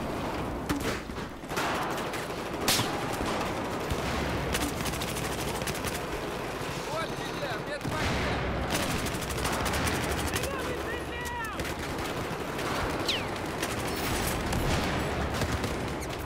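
Close, loud gunfire and machine-gun bursts in Battlefield 4 on the Metro map in Second Assault, a continuous chaotic firefight with explosions and someone talking over it.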